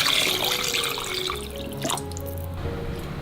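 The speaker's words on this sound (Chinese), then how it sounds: "加入适量清水" Water pours and splashes into a clay soup pot with lightly crushed olives, a short bright trickle that fades into a few drips.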